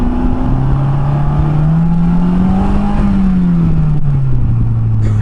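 Exhaust of a Polaris Slingshot three-wheeler while driving, a loud continuous engine drone whose pitch rises, holds and eases off as the throttle changes, close up with constant road and wind noise.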